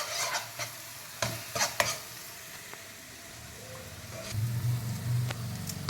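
Masala stuffing for stuffed bitter gourd frying in oil in a pan while being stirred, a steady close sizzle broken by scraping strokes of the spoon.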